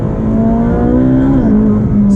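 A Speciale sports car engine hums and revs steadily on a tight road, a loud, close engine drone with a smooth rising and falling pitch that stays constant throughout.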